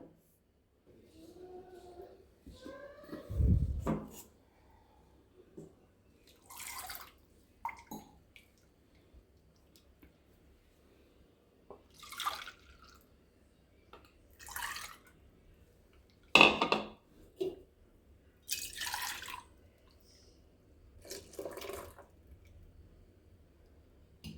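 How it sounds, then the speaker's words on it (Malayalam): Water sloshes and splashes in short bursts as a blender jar and bowl are rinsed with half a glass of water, with drips and a few louder pours, interspersed with quiet gaps; close and intermittent. "മിക്സി ജാറും പാത്രവും കൂടി ഒരു 1/2 ഗ്ലാസ് വെള്ളത്തിൽ കഴുകി ഒഴിക്കാം."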